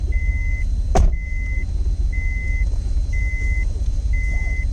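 A Citroën Xantia V6 pulls away on a test track, heard from inside as a low, steady engine drone. A sharp click is followed by a regular electronic beep chiming about once a second.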